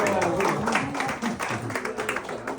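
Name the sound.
applause at cultural event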